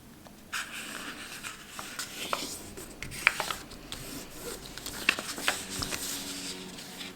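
Paper is folded and creased for an origami rose, with soft rubbing, scraping and light crinkling strokes near the mic and a few sharper taps, at low level throughout.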